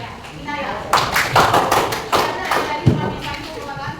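Scattered classroom clapping from students, a few uneven bursts of hand claps and taps rather than a full ovation, with chatter and background voices throughout.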